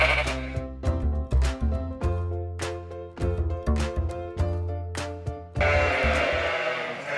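Sheep on a farm bleat loudly and close by, many overlapping calls in quick succession, then the calls stop and a rough, noisy rustle takes over near the end.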